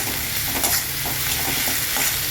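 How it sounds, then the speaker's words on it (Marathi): Onion and tomato with salt stirred in a frying pan, a steady sizzle with repeated scraping strokes of the spoon through the mix, close and continuous. "चवीपुरता मीठ टाकायचं आहे कांद्यामध्ये आणि ते छान हलवून घ्यायचं"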